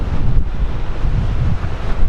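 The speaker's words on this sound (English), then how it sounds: "And here comes the wind." Strong wind buffets the microphone on the rocky Oregon coast at Devil's Churn near Cape Perpetua, a steady loud roar mixed with crashing surf, continuous throughout with no voices.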